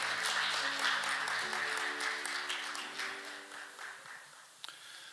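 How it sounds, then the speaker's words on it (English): Conference audience at an international IP court event gives a round of applause for a keynote speaker, steady moderate clapping that gradually thins out, with faint tones underneath. "Please welcome him with a round of applause"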